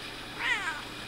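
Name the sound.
cat meowing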